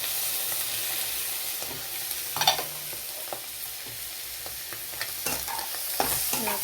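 Prawns frying with onion and tomato in a pan give a soft, even sizzle, punctuated by several crisp scraping and clicking stirs of a spatula at irregular intervals, close and fairly quiet.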